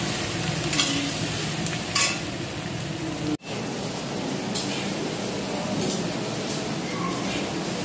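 A large chopped onion frying in a pan in a home kitchen, with a steady loud sizzle and occasional stirring scrapes throughout, plus a brief clatter midway.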